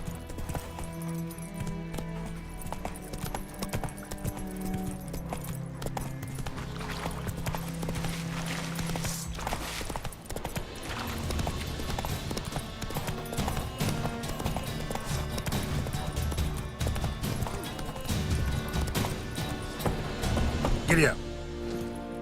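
In The Witcher 3: Wild Hunt, a horse gallops with steady rhythmic hoofbeats beneath game music and ambient sound, while someone speaks briefly over it.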